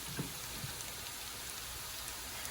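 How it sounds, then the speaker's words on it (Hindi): Chopped onion fries in a little oil, giving a faint, steady sizzle and crackle with a few soft pops near the start and no voices. "दूसरी साइड मैंने एक अदद प्याज लिया हुआ है जिसे मैं फ्राई कर रही हूँ।"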